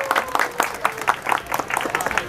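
A crowd applauds scouts at a Raimuna jamboree in Lumajang, lively clapping with sharp irregular claps filling the whole moment.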